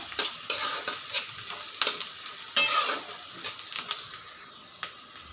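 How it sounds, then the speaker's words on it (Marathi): Garlic sizzling in hot oil alongside onions in a pan, with a steady frying hiss broken by repeated sharp stirring scrapes and clatters, close and fairly loud. "हा पण आता तेलामध्ये टाकून कांद्याबरोबरच छान आपल्याला तळून घ्यायचा आहे लसूण सुद्धा"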